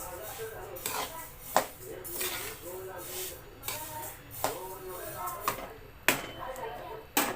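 Metal utensils clink and scrape against a hot kadai in repeated sharp knocks while roasting sesame seeds and peanuts for sesame laddoos, with a voice talking softly in between.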